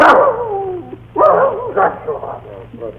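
A dog barks and yelps several times in quick bursts close by, with whimpering, tonal cries between the barks, loud and alone.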